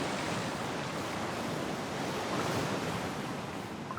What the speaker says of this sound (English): The sea.